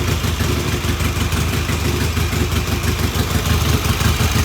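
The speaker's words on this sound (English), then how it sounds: "Well, now it's idling." A vintage British motorcycle engine idles steadily close by, a rough, even low rumble with a fast putter throughout and no voices.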